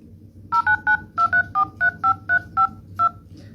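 A phone dials out to place a call, producing about eleven crisp touch-tone beeps in a quick, slightly uneven sequence over a faint low hum.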